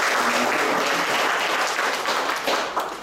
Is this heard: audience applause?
yes